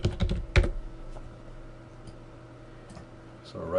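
Fingers tap a computer keyboard in a quick cluster of close clicks, then only faint scattered keystrokes over a quiet room hum.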